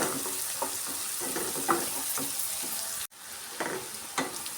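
Ginger garlic paste fries in a pan for egg rice with a loud, continuous sizzle, broken by stirring scrapes and a brief dropout midway.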